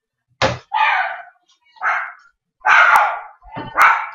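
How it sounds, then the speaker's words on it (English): A dog in a British back garden barks several times in quick, uneven bursts, loud and close, with a brief sharp knock among the barks. "And that's a stupid dog."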